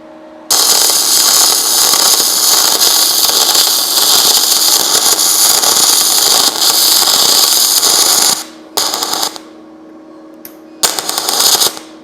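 A YesWelder Firstess DP200 multiprocess welder lays a weld in a loud, steady crackling buzz for about eight seconds, then two brief bursts follow after short pauses.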